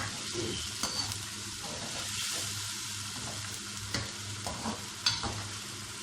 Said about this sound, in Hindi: और साथ ही इसकी ये अदरक भी डाल लेते हैं। इसको अच्छी तरह भूनूंगी।